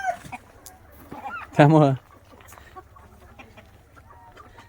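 Desi village chickens and a rooster in a parent flock, with one loud, close clucking call standing out over faint background clucks, and someone speaking at a moderate level.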